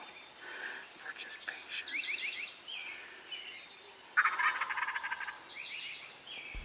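A wild turkey tom gobbles in a field, several rattling gobbles at mid distance. Faint chirps and a louder close burst come near the end, with quiet outdoor background between calls.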